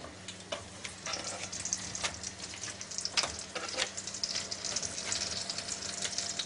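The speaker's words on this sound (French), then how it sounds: "je laisse le beurre fondre. Et j'ajoute mes endives." Endives frying in melted butter in a pan give a steady, fairly quiet sizzle with scattered crackles and a few utensil scrapes, heard close with no talk.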